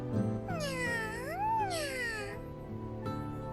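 Stray cat meowing in a video game, a single drawn-out, rising and falling meow that sounds fairly close over a sustained tonal background.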